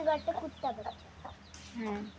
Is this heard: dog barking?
no